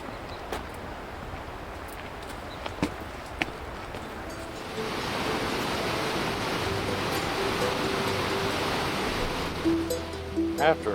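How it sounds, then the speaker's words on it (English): The Kootenai River roars as a broad, steady rush of water, growing louder and fuller partway through, with a few faint clicks and tones over the continuous noise. "we come to this roaring river"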